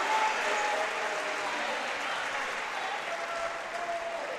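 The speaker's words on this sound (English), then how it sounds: "Austin Parks is going to be able to have a seat to a well-deserved round of applause from St. Mary's fans" St. Mary's fans applaud in a basketball gym as a player heads to the bench, a dense, sustained round of clapping from the crowd that stays loud and even throughout, with faint voices mixed in.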